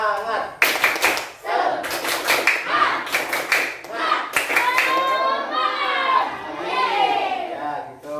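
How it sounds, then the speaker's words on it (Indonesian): A classroom of children performs the rhythmic Indonesian 'tepuk semangat' spirit clap, sharp grouped bursts of hand claps in a patterned rhythm, alternating with children chanting along in unison between clap sets. "kita semuanya bersama-sama tepuk semangat"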